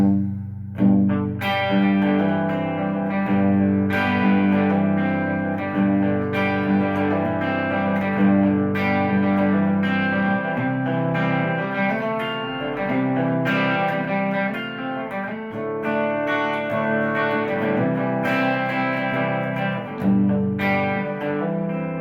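A distorted electric guitar plays a chugging rhythm riff with effects, loud and continuous, repeating its pattern with no voices.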